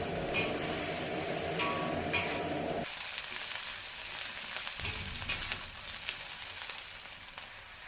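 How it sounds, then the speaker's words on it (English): Baby bok choy hits a wok over high heat, setting off a loud, steady sizzle and frying hiss that flares brighter partway through, with occasional stirring scrapes. "You will hear the loud sizzling sound once you add the bok choy into the wok."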